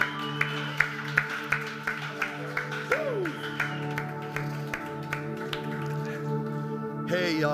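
A church congregation claps hands in a steady rhythmic beat during Sunday worship, the sharp claps ringing over sustained music with a voice calling out.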